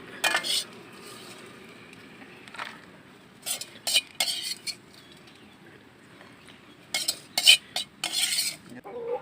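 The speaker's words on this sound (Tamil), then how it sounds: "வடச்சட்டிலேருந்து இலைக்கு மாற்றிக்கலாம்." Cooked Pallipalayam chicken with shallots and green chillies is scraped and transferred from a kadai onto a leaf with utensils, giving several short bursts of metal clinks and scrapes separated by quiet pauses.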